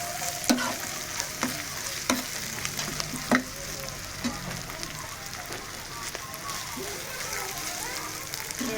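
A small spoonful of ginger paste frying in a pan for a capsicum egg curry crackles and hisses steadily nearby, with sharp spatula taps against the pan.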